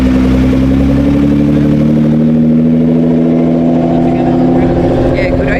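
A Nissan GT-R engine at a late-night car meet in Miami runs loud and steady close by, a deep idle drone with clattering texture and a slight rising rev partway through.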